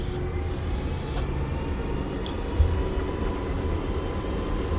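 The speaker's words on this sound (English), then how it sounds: "Rolling takeoff" A VG Airlines Airbus A330-200 makes a rolling takeoff, its engine roar a steady, loud, broadband rumble with a low drone throughout and one brief thump partway through.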